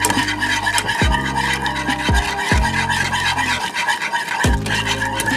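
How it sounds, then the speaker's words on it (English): Butter being whisked into a sauce in a pot, off the heat, with a steady scraping, rasping whisk stroke rubbing against the metal that is close and continuous, broken by a few brief pauses and no talking. "Continue to keep adding your butter and whisking."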